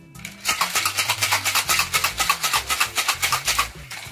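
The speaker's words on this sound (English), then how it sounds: "Shake it all together" Rapid rhythmic rattling of ice shaken in a cocktail shaker while mixing a monkey gland cocktail with absinthe, steady repeated strokes close by, with no talking.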